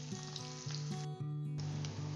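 Fish fritters frying in oil on a low flame make a constant close sizzle, with a steady tonal hum running underneath and no voices.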